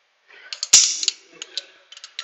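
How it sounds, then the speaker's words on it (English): A torque wrench works on a cylinder head bolt, giving a scatter of close, sharp mechanical clicks and ratcheting ticks, one loud snap standing out, with no talk. "on these torque wrenches, if you've never seen before, I just turn my dial here and I can adjust it to whatever I want"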